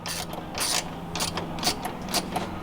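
A socket wrench ratcheting as it tightens a strut brace bolt on an A90 Toyota Supra, giving a run of close, crisp clicking bursts in an uneven rhythm.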